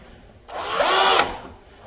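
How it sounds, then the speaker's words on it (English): Cordless power drill boring a hole into wood while building a squirrel feeder, one steady whirring burst of about three-quarters of a second, close and loud, with no talk over it. "Don't go overboard with the cordless drill."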